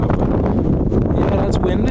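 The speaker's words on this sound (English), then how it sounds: "Yeah, that's wind." Wind roars steadily during a New York blizzard, a dense rumbling buffet that stays loud and constant throughout, with no clear voices.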